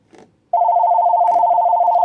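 An old telephone sounding: a steady electronic tone starts abruptly after a brief rustle, then holds loud and unbroken, with a few small clicks and knocks on top.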